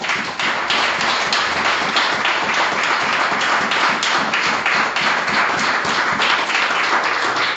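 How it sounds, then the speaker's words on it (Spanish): A church congregation gives a sustained round of applause, dense and steady clapping that stays loud and close for the whole stretch, with no voices rising above it. "Exijo un aplauso a la gloria de Jehová"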